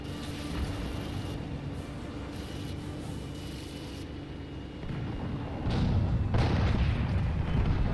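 The main gun of an STB-1 tier 10 medium tank fires in World of Tanks, a deep broadband boom that swells out of a dense rumble of engine and battle noise near the end.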